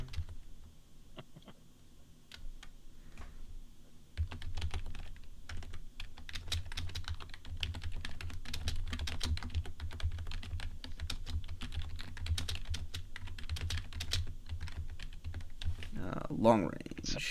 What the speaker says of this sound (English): Angry typing going on.